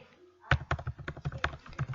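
Username being typed on a computer keyboard, a quick run of about a dozen close, crisp keystrokes in uneven rhythm after a moment of quiet.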